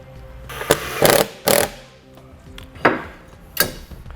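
Hardware being tightened on the front fascia of a 2016 Lincoln MKX produces a handful of sharp metallic clanks and ratcheting knocks. They come in a quiet garage with irregular gaps between them.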